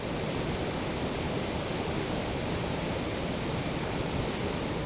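Kuthumkal waterfall in full flood as a check dam overflows after heavy rain, a loud, unbroken roar of rushing water that holds steady and close throughout with no other sounds.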